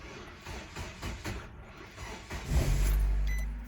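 A 2007-2011 Nissan Versa with a mass air flow sensor fault is cranked, giving a churning starter whir that rises into a deep, louder engine rumble near the end, heard close up without talking.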